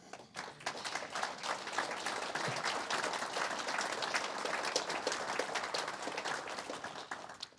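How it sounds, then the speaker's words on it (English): Applause from an audience at a panel event, a steady patter of many hands clapping at moderate distance, fairly faint, sustained for several seconds then tapering off. "So, yes, a round of applause."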